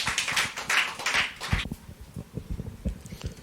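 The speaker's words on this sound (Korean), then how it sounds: "큰 박수로 환영해 주시기 바랍니다." An audience at a church debate forum claps briefly to welcome the next speaker, a short burst of applause that fades after about a second and a half into scattered taps and footsteps.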